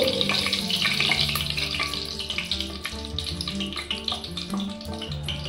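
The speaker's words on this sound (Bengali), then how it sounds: "1 কাপ সরষের তেল, 2 চামচ ঘি, একটু গরম হলেই 3টি তেজপাতা দিয়ে একটু নেড়ে নিয়ে" Three bay leaves sizzle in a hot kadai of mustard oil and ghee, giving a steady, bright frying hiss throughout over a humming, tonal background.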